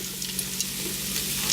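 Butter sizzling on a hibachi griddle in a home kitchen, a steady close frying hiss with faint crackles and no talk.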